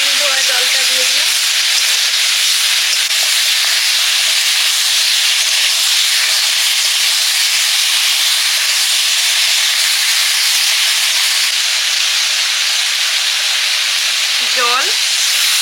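Water poured into a hot pan of tilapia curry sets off a loud, steady hiss and sizzle that runs unbroken for about fifteen seconds, with brief faint clinks near the start and end.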